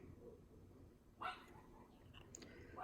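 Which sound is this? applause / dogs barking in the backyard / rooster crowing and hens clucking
dogs barking in the backyard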